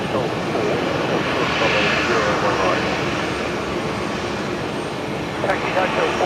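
An airliner taxiing at Brisbane Airport at night gives off a steady, broad engine rumble and hiss from a moderate distance, with a faint higher whine rising near the end.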